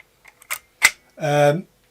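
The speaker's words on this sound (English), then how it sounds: "it is firing the shutter" A few sharp mechanical clicks, then a short buzzing whir as the shutter of a 120-130-year-old falling plate camera fires, close and crisp in a quiet room.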